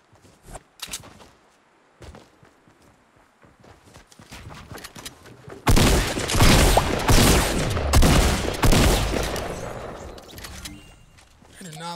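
Automatic shotgun fire in the video game Fortnite, heard as a burst of rapid loud blasts in the second half after scattered footsteps and a few isolated shots, with a voice talking briefly.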